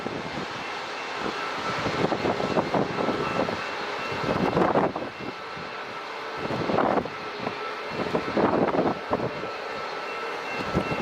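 An airliner takes off at San Diego International Airport, a broad roar swelling and easing in waves at moderate distance over steady background rumble.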